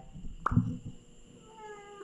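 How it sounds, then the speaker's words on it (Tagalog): A big cat gives a single short meow close by, quiet and brief, followed by low background hum. "Laking pusa oh."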